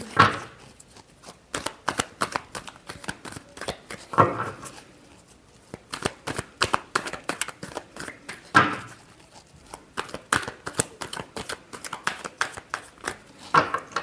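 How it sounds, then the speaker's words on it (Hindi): Tarot cards are shuffled by hand in quick rustling flurries, crisp riffles and slaps repeating in bursts with short pauses between, close and clear with no voice. "Last shuffle."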